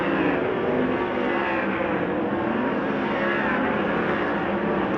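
Race cars on the Arizona Speedway dirt track during the Copper Classic, a continuous rumbling engine roar at moderate distance as the cars throttle down into a corner, with no voices.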